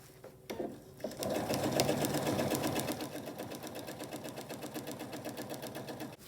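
A sewing machine fitted with an open-toed presser foot stitches quilting lines through fabric and batting, its needle chattering in a fast, steady mechanical rhythm close by after a brief start-up whir.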